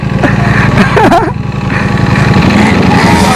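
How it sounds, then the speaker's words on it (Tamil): A Ducati motorcycle revving hard through a power wheelie, its loud, steady engine drone close by and continuous, with brief voices or shouts over it. "அழகா பவர் வீலி ஆகுற வண்டி."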